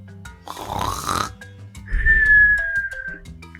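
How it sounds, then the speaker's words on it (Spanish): A comic snore in a children's farm-animal story, heard as a short rasping, grunting inhale followed by a whistling exhale, loud and close, over light background music. "Ronquido."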